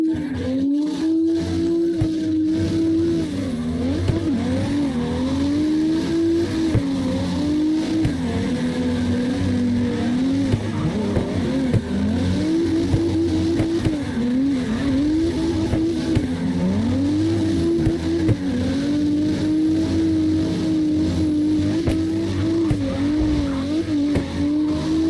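Cars drifting in CarX Drift Racing Online, a green truck and a blue BMW, produce continuous loud engine revving that rises and falls in waves with tire squeal and skid noise, steady throughout.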